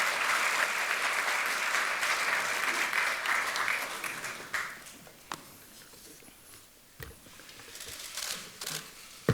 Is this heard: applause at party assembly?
yes